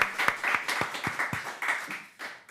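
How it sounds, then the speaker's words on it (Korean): A church congregation at a Sunday worship service gives a short round of applause, with scattered claps forming a moderate, irregular burst that thins out toward the end. "우리 하나님께 영광의 박수 올리겠습니다."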